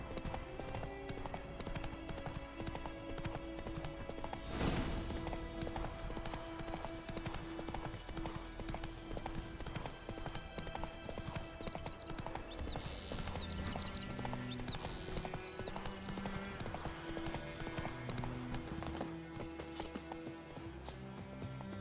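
Horse hooves gallop in The Witcher 3 video game, a steady rhythmic clip-clop running throughout at low volume, with a brief whinny and game music and ambience underneath.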